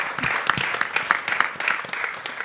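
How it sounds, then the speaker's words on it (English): A conference audience applauds its panel of five speakers at the close of a World Economic Forum session, a dense, steady wash of many hands clapping throughout with a few sharper claps rising above it. "Please give a big round of applause to all my 5 panelists"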